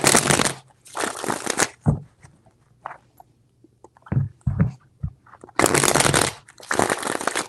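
Tarot cards shuffled by hand in several loud, riffling bursts separated by short pauses and softer taps and handling sounds, close up with no talking.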